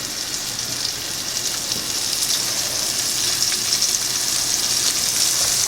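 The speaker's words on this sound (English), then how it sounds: "in bacon grease is what I fry mine up in" Flour-dusted venison fries in bacon grease, a steady, close, loud sizzling hiss that holds evenly and swells slightly toward the end, with no voices.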